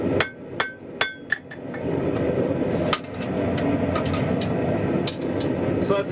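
A hammer strikes hot steel on an anvil while tapering a bar for a lantern hanger: a handful of sharp, ringing blows come first, then a continuous rumbling background with scattered further strikes.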